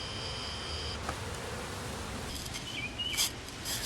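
Honeybees hum steadily at a Guardian small hive beetle entrance on a hive, a close, even buzz with a few louder passes near the end.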